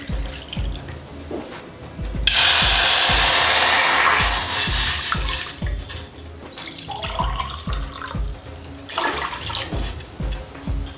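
Water is poured steadily into a pot for rice flour dough, a loud continuous splashing rush lasting a couple of seconds, followed by softer kitchen handling noises.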